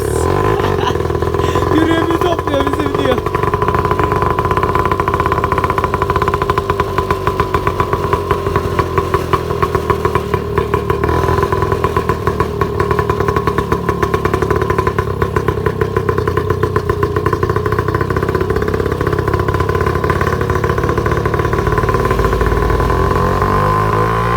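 A motorcycle engine runs steadily for the whole stretch, a loud, continuous drone with a droning tone and some clatter, as if riding past or alongside close by, with faint voices briefly underneath.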